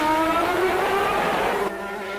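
Ayrton Senna's Formula 1 car at the Phoenix US Grand Prix, engine misfiring, its loud buzzing note broken by popping and banging, close and continuous before cutting off abruptly near the end.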